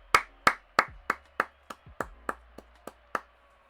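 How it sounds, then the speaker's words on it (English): A steady run of about ten sharp hand claps at an even pace, fairly close and clear, heard after a gaming tournament match with no talking over them. "We're going to get a little clap in the background there."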